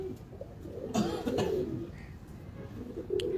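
Domestic racing pigeons at a pigeon keeper's loft in Lahore coo softly in low, rounded bursts against quiet background hiss, with a few brief calls near the middle and the end.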